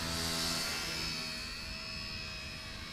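A small XK AS350 radio-controlled scale helicopter flies outdoors, giving a steady, fairly faint high whine with a low rotor rumble that eases slightly as it moves away, with no voices.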